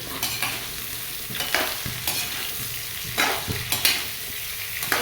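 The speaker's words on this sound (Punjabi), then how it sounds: "ਹਾਈ ਫਲੇਮ ਦੇ ਉੱਤੇ ਆਪਾਂ ਚੰਗੀ ਤਰ੍ਹਾਂ ਫਰਾਈ ਕਰ ਲਾਂਗੇ" Radish and carrots frying together over a high gas flame, a steady bright sizzle broken by several louder bursts of stirring and scraping in the pan, close and continuous with no voices.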